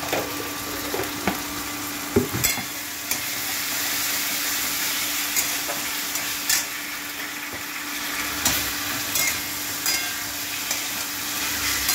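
Potatoes sizzle steadily in a curry pan, a constant close hiss of frying broken by occasional scraping knocks as they are stirred.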